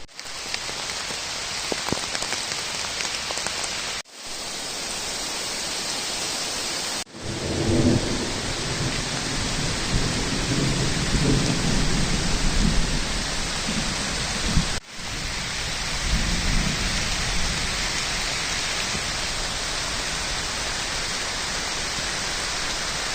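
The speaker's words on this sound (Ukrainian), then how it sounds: "паде дощ" Steady rain pours down in the Carpathian forest, a dense hiss interrupted by a few abrupt cuts, with a low rumble of thunder partway through.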